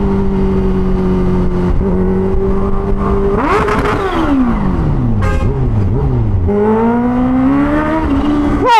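A Kawasaki H2 Carbon motorcycle with a full-system exhaust accelerates hard. Its engine tone holds steady, then sweeps up and down through gear changes and climbs again, loud and close throughout.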